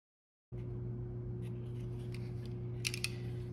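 Leather for a Buck 110 knife sheath is cut, producing a few faint snipping clicks near the end over a steady low electrical hum, with no speech.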